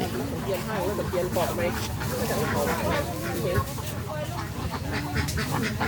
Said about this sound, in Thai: เลี้ยงเป็ดไข่ด้วยนะครับ